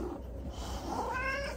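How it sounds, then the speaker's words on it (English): A cat gives a single drawn-out meow at a gig afterparty, fairly close and moderately loud, rising into a tonal wail near the end against low room noise with no talking. "Are you happy cat?"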